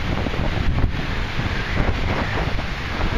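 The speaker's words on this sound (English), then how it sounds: "It's windy." Strong wind buffets the microphone on a bay at low tide, a loud, continuous rumbling roar mixed with the wash of water and no talking.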